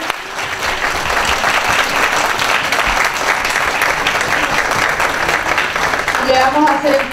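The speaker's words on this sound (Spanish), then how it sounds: "Vamos a dar un aplauso." An audience at a heritage-days talk applauds in a full, steady burst of clapping that runs nearly the whole stretch. A voice briefly rises near the end.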